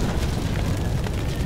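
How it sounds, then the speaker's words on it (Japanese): A burst of explosion noise from the opening movie of the horror game Mother Queen, a dense roaring rumble filling the short stretch, loud and sustained rather than a single crack. "爆発したぞ。"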